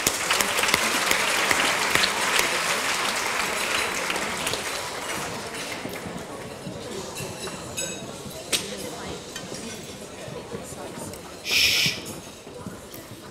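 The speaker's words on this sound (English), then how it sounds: "let's give you a round of applause" Audience applause at a charity luncheon for Alzheimer's caregivers: a sustained round of dense clapping from a large room fills the whole stretch, slowly tapering, with a few louder claps and faint voices.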